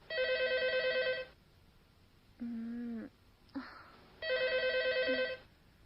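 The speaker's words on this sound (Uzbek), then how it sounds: "Telefonni eling davatman." A telephone rings close by with a warbling electronic trill in two long bursts, separated by a quieter gap holding a short mid-pitched sound and a brief knock.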